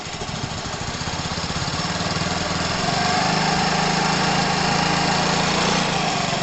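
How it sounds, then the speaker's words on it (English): An engine runs near and loud, droning steadily at idle before the pitch and level rise and hold as it is revved, with no voices over it. "So let's see if I rev it now"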